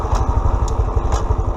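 A Honda Trail motorcycle engine runs close and loud at a steady idle, with a throbbing low putter and a few brief clicks riding over it.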